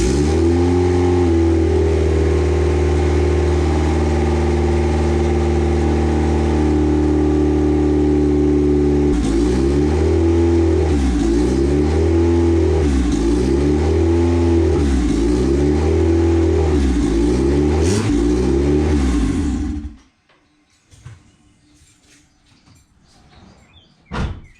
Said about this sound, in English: now the engine is turning over and we have injectors